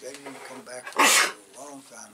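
A single loud sneeze bursts out mid-conversation, sharp and close, between stretches of an elderly man's speech.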